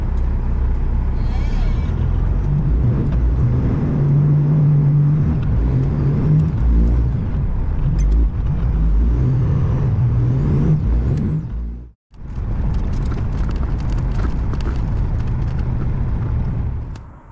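A truck rolls along the road with a loud, steady engine whir and road rumble, close from inside the cab, with a brief dip near the end before the drone resumes; voices talk over it at times.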